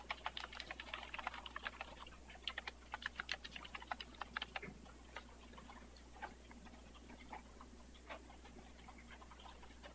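Someone types on a computer keyboard, a fast irregular run of soft clicks and taps that grows sparser and slower toward the end, heard alone in a quiet room.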